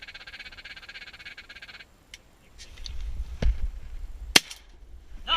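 A single shotgun blast goes off during a California duck hunt from a boat blind. It is a sharp, loud crack late in the clip, following a stretch of croaking calls and a low rumble.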